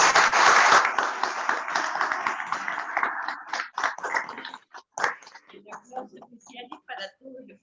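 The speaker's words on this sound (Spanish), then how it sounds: "Las despedimos con un aplauso." Audience applause at the close of a talk, starting as a brief full burst of clapping that quickly thins into scattered individual claps, with voices talking over the tail end.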